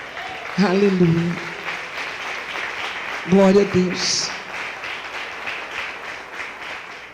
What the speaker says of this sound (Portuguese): Você pode se assentar, aplaudindo o Senhor.